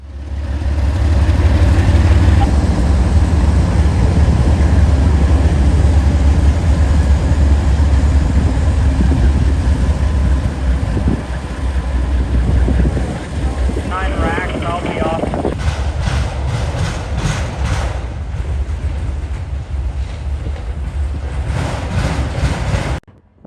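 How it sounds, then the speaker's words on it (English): CSX freight train M204 working Marion yard, pulling auto racks forward then shoving them back onto its train: a loud, steady locomotive rumble and drone with wind buffeting the microphone, then clanking, squealing metallic bursts near the end. "M204 is seen beginning his work in Marion, pulling some auto racks forward and then backing them onto the rest of his train"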